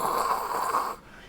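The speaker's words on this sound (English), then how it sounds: "When he heard the Griffin snoring," A griffin snoring in a Grimm fairy-tale audio drama, one long rasping, rumbling snore drawn out for about a second before cutting off, close and fairly loud with no talk over it.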